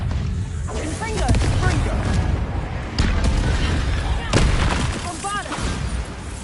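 Confringo spell blasts go off in Hogwarts Legacy, a run of loud booming bursts with rumbling tails spread through the stretch, mixed with game voices and other action sounds.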